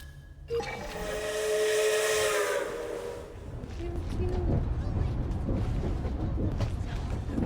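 Steam locomotive whistle in a video game sounds a long, loud sustained tone for a few seconds, then gives way to a rumbling, hissing train mechanism.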